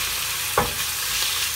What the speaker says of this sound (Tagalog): Then, iprito po muna natin to.